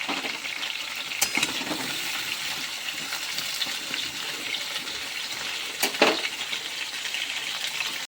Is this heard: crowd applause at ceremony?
no